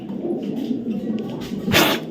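A short-tailed, light-coloured racing pigeon coos low and steadily while being held in the hand. Near the end comes a brief rustle of feathers or wings, close to the listener.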